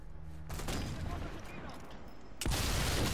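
Gunfire in the World War II sniper game Sniper Elite 4, a burst of loud shots with a second heavy crack near the end, while players talk over the action.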